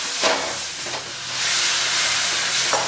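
A few brief splashes followed by a loud, sustained hiss and sizzle as water is sprinkled into a hot pan of frying masala and elephant foot yam, steaming continuously to the end.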